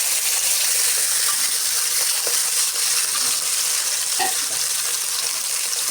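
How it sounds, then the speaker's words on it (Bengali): Small chara fish, slid gently one by one into shallow hot oil for a thin fish curry, sizzle in a steady, dense hiss with a few faint clinks. "এবার আমি মাছগুলো আস্তে আস্তে করে ছেড়ে দেব।"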